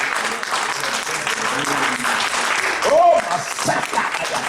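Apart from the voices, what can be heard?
church congregation applauding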